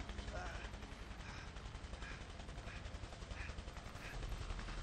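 Gunfire in the video game A Way Out: a steady stream of rapid shots with regular bursts, loud and continuous, mixed with busy game noise and no clear talk.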